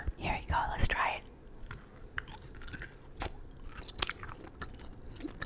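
Freeze-dried Space Twisters sour bubblegum apple candy being chewed close up, with crisp crunches and sticky bites in irregular bursts amid soft mouth noises.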